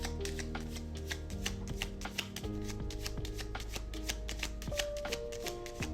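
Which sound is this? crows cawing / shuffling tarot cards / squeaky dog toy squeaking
shuffling tarot cards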